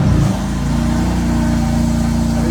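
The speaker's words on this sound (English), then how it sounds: "The car's running well." A high-mileage BMW M4 engine idles close by with a steady, even hum and a low rumble that holds unchanged throughout.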